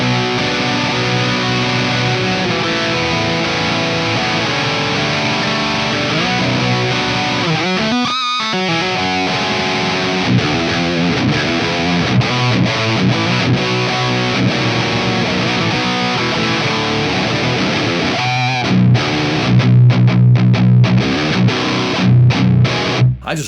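A heavily distorted electric guitar plays chugging metal riffs and sustained chords through a saturated Brunetti Extra Lead tube amp, loud and continuous, with brief pauses.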